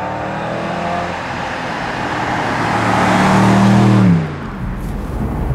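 BMW M850i convertible with the top down accelerates out of traffic, its engine note climbing loudly and steadily to a peak before dropping off, with road and wind rush throughout.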